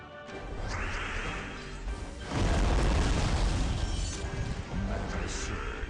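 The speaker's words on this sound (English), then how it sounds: "Mana surge. Mana surge." Mana surge spell effect from the mobile puzzle game Gems of War, a loud crashing boom with a shimmering magical whoosh and impact noises layered over game music, rising in a dense burst midway.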